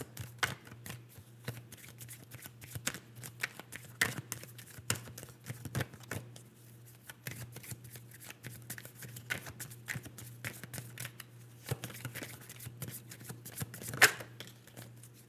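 Tarot cards being shuffled close by in a steady stream of quick papery riffles and taps, continuing alone without talking against a low background hum.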